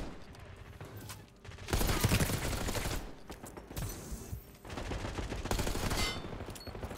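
Gunfire crackles in Call of Duty Black Ops 6, loud bursts of automatic fire and rapid shots in heavy waves with brief lulls between, set against a busy battlefield background.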